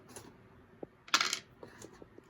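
Several dice are rolled during a tabletop miniatures wargame, giving a quick clattering burst of tumbling dice on a hard surface amid quiet room noise.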